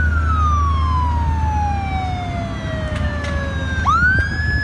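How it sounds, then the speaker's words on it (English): Police car sirens wail at a large fire scene, with a long falling tone sweeping down and then sharply rising again near the end, loud over steady low traffic rumble. "We've got police cars arriving."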